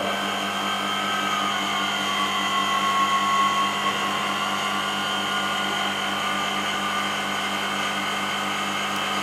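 A vacuum pump evacuating an air conditioning system runs with a steady, continuous mechanical drone and hum, loud and unchanging throughout with no speech.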